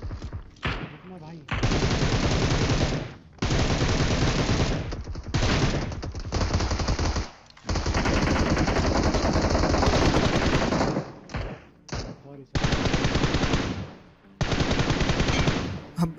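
Battle royale video game firefight with long sustained bursts of rapid automatic gunfire, loud and close, broken by brief pauses, while someone talks over the shooting.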